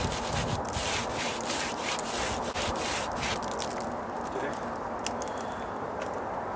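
Sandpaper rubbing over drying stucco patch material on a dry-rot deck repair, a run of close, rhythmic scraping strokes that slows and softens toward the end, with a few brief spoken words.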